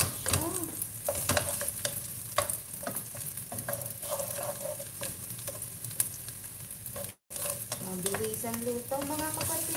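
Chicken wings sautéing in a pan for Filipino adobo, with a steady frying hiss broken by repeated scraping stirs of a utensil, close and continuous, with a brief dropout near the end.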